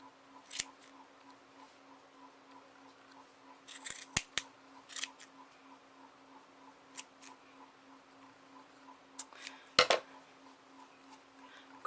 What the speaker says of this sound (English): take it off the dowel, cut in the loops